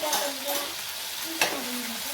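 Soybean and vegetable mixture with tomato, chili and salt stir-fried in a pan, a continuous sizzle with scraping strokes of a spatula against the pan, close and steady, with a sharper clack near the middle.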